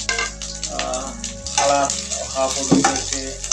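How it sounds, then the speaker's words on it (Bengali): Chopped onion, garlic and green chilli dropped into hot oil crackle and sizzle loudly and continuously up close, with a little stirring and faint background voice. "এই মুহূর্তে আমি পেঁয়াজ কুচি, রসুন কুচি এবং কাঁচামরিচ একসঙ্গে দিলাম।"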